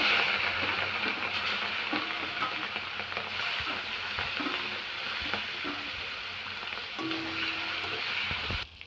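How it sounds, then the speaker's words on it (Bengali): Prawns fry in hot mustard oil in a wok, giving a steady, close, crackling sizzle that runs unbroken for several seconds with faint stirring clinks and no talking. "তেলটা গরম হয়ে গেছে, চিংড়ি মাছগুলো ভেজে নেব"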